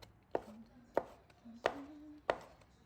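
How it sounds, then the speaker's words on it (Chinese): A knife dices soaked shiitake mushrooms on a cutting board, four sharp, close chops spaced evenly apart, clean and isolated against a quiet background. "再改刀切成香菇丁"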